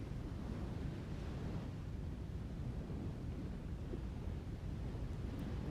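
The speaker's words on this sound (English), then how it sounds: "for the sounds of the ocean" Ocean waves wash continuously in a low, broad rumble, steady and close, with wind buffeting the microphone and no voices over it.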